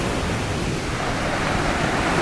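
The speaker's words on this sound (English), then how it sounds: "the sound of the waves" Ocean waves wash steadily onto the beach at Hua Hin, Thailand, a continuous loud rushing surf with no breaks and no voices.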